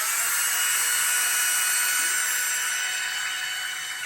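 A high-pitched whine of a spinning power drill runs steadily at close range, fading slightly toward the end.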